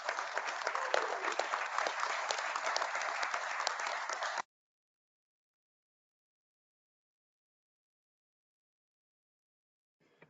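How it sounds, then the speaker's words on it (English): A room of delegates at the IPHC Annual Meeting applauds the Secretariat staff, with dense, even clapping for about four seconds that stops abruptly into near silence. "if I could just have a round of applause for all of the Secretariat staff who've supported this process"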